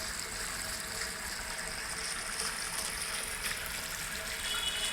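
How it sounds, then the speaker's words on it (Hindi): Water wells up and flows continuously from a natural spring-fed pool at a sacred pilgrimage site, a steady, even rushing and trickling wash heard up close with no talk over it. "इसके अंदर से पानी निकल रहा है"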